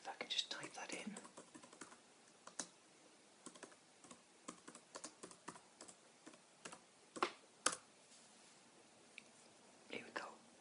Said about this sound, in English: I'll see if I can just type that in.